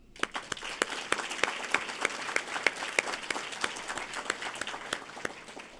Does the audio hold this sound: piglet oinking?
no